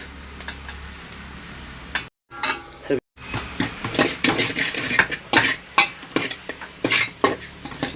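Curry leaves and a mixed spice blend dropped into a hot pan for Indian-style chicken fry, crackling and sizzling with sharp spoon-on-pan ticks and stirring scrapes, close and busy after a brief pause, with a voice speaking over it.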